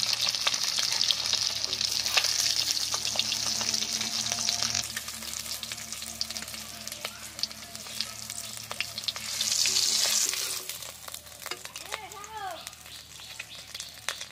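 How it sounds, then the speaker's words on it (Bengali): An egg frying in hot oil in a home kitchen, a steady crackling sizzle that runs throughout and swells briefly near the end, with faint background sounds and no speech. "ডিমাটা বেশ সুন্দর ভাজা হয়েছে"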